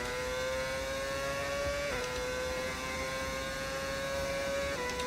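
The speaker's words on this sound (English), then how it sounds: "Great engine sound, by the way." Formula 1 car engine in the F1 25 racing game, a steady high-pitched whine holding pitch with brief dips at gear shifts, loud and continuous with no talk over it.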